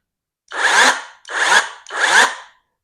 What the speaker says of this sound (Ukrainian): Тепер для того, щоб почала працювати пилка, потрібно натиснути ось на цю кнопочку і пустити.